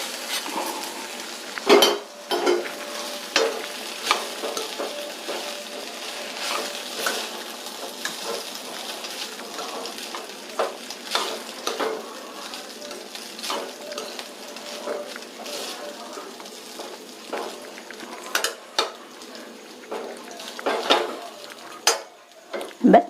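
Cooked vermicelli is stirred into fried vegetables in a pan for semiya upma, with scraping utensil strokes and clinks over a soft sizzle running throughout, close by, with no talk.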